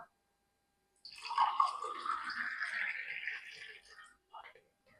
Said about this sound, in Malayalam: അങ്ങനെ നമ്മുടെ മിന്റ് ലൈം റെഡി ആയിട്ടുണ്ട് നമുക്കിത് ഗ്ലാസ്സിലേക്ക് ഒഴിക്കാം